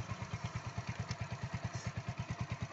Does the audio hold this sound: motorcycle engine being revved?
yes